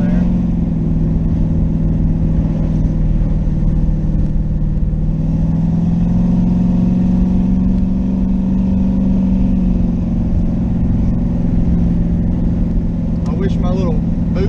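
Twin-turbo LS-swapped third-generation Camaro accelerating in a second-gear roll-on, a loud continuous engine drone heard from inside the car with the pitch slowly rising, and voices talking briefly underneath.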